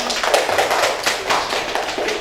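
Schoolchildren in a second-grade classroom clap together in a rhythmic burst of applause, close and lively, for a couple of seconds.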